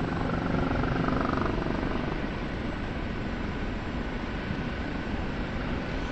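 An OH-58D Kiowa helicopter flying in the DCS flight simulator game gives off a steady, loud rotor and turbine drone that continues unbroken for the whole stretch, with no voices.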